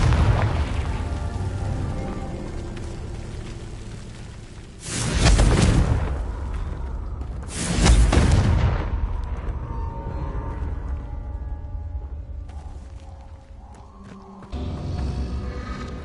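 Two heavy booming blasts from the Confringo explosion spell in the video game Hogwarts Legacy burst out a few seconds apart over a droning ambient bed, each one loud with a rumbling tail.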